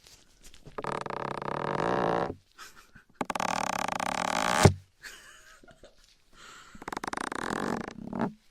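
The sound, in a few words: fart sound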